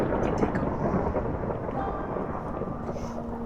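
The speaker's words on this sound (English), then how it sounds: "Wait, thunderstorm." Rumbling thunderstorm in a Minecraft UHC game, a steady dense roar of thunder and rain filling the whole stretch without pause.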